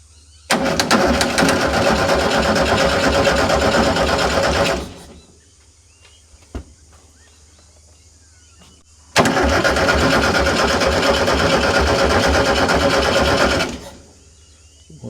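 An old VW fire truck engine with only 86 hours, sitting for over 20 years, bursts into loud, close running twice for about four seconds each, with a quiet pause between attempts.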